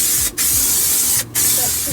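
Spray gun hissing steadily across a camper wall during a bedroom build, two brief pauses breaking the loud continuous spray, with some low rumble underneath.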